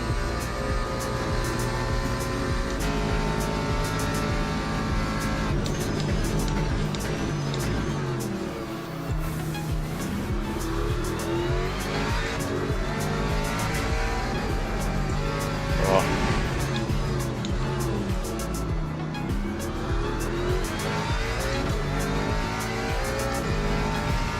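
In a racing video game, a Ford Mustang race car engine revs through a lap, rising and falling with gear shifts and brief tire squeal, while a voice talks over it at times.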